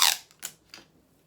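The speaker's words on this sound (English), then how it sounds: "I'll just tape this down. Lots of tape needed when you're doing pattern alterations." Sticky tape pulled and pressed down onto a paper sewing pattern during pattern alterations, three short rasping tears, the first loudest, then quieter strips, close and alone.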